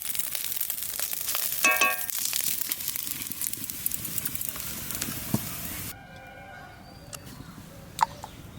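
Dried kachki fish fry in a pan with a crackling, hissing sizzle and some stirring scrapes. The noise drops abruptly to a quieter background partway through, where faint rooster-like calls and clicks are heard.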